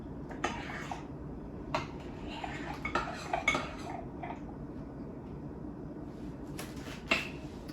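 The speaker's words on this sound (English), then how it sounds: "I raised that up so I can stir and get in some of this dry cake mix." Dry cake mix being stirred into batter in a bowl beneath a 1957 Sunbeam Mixmaster, with scattered clinks and scrapes of a utensil against the bowl over a low steady hum, close and fairly quiet.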